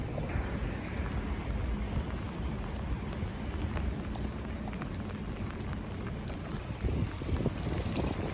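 Steady rain falls outdoors in Kirkcaldy, Scotland, a constant wash of patter mixed with gusty wind buffeting the microphone, with no voices heard.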